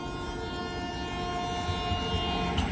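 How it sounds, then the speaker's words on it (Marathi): A train rumbles steadily past at Mangaon station on the Konkan Railway, with a continuous close rolling roar and tonal hum that swells slightly toward the end, with no talk over it. "माणगाव स्टेशन आणि आलेले आहे दुसरी एक समोरून ट्रेन"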